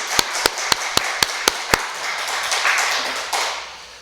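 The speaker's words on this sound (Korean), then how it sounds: "위에서 한번 우리 사랑의 박수를 함께 좀 드리겠습니다" A church congregation applauds: a run of about seven sharp, evenly spaced claps gives way to a soft, diffuse wash of clapping that fades out.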